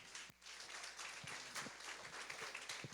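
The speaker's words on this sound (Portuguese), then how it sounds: "Aplauda o Senhor Jesus Cristo." A church congregation applauding during a worship service, a fairly faint, continuous patter of many hands clapping with a few sharper individual claps standing out.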